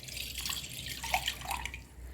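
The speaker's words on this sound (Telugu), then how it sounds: "కొంచెం వాటర్ పోసి," A little water trickles and drips into a kitchen bowl holding wild mushrooms. The light splashes are faint and close, set against a quiet room.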